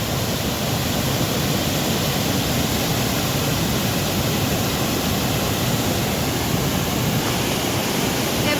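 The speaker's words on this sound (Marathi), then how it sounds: "खूप मोठा धबधबा आहे" A large waterfall roars in a constant, dense rush of water, loud and unbroken throughout with no other sounds.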